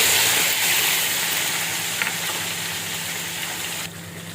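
Mango pieces and green chilies go into hot oil spiced with pickle masala, frying with a loud, steady sizzle and hiss that drops suddenly near the end; no talking.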